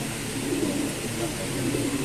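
Pigeons cooing in a loft of red-line breeding birds, soft low repeated coos blending into a steady background, heard close without anyone speaking over them.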